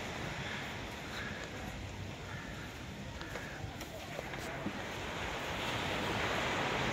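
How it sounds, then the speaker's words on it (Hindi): Ocean surf on a morning beach at Palolem in South Goa, a continuous wash of breaking waves with some wind noise on the microphone, rising slightly toward the end. "वाव क्या शोर है समुद्र का."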